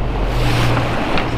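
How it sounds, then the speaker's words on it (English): Ocean surf breaking off a point on the Atlantic, heard from a sailboat as a steady, loud wash of waves mixed with wind noise, continuous with no talk. "I do see some breaking waves off the point here"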